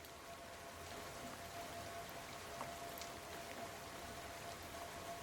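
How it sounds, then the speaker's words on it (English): Steady rainfall patters down in a continuous, even wash of drops, faint and unbroken throughout with no voices. "So you get to listen to some rain sound"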